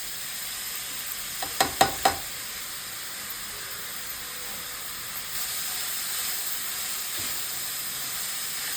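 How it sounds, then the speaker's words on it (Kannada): Capsicum and grated carrot fry in a pan for vegetable poha, a soft continuous sizzle with a few sharp clinks of a utensil early on, low and steady throughout. "ಇವೆಲ್ಲ ವೆಜಿಟೇಬಲ್ಸ್ ಚೆನ್ನಾಗಿ ಫ್ರೈ ಆಗಬೇಕು."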